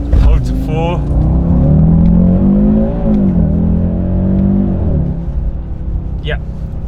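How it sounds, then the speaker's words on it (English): Audi RSQ3 Sportback with 400 horsepower, traction control off and manual mode, launched hard from a standstill: a loud engine roar climbing steadily in pitch through the gears close by, with a brief shift dip before easing off. "I've actually never done a launch control in this car. So what we should do is definitely start off by doing one."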